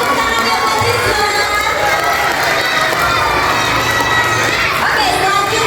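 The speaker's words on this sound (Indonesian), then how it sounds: "Tepuk tangannya buat Rizwan." Schoolchildren at an Independence Day proclamation-reading contest clap and cheer for a classmate, a loud, dense, continuous crowd roar with young voices shouting throughout.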